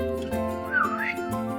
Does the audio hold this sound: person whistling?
yes